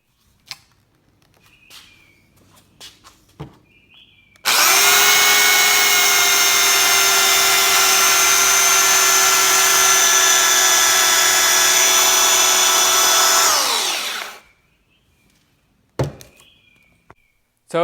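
A repaired DEWALT DW433 belt sander runs loud and steady for about ten seconds with a high, whining motor and abrasive belt hum, then winds down. A few quiet handling knocks come before and after.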